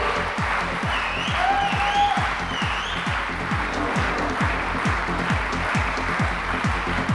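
Continuous audience applause fills a convention hall at the NAR-INDIA annual convention, steady and dense, backed by a pulsing rhythmic beat and brief musical tones.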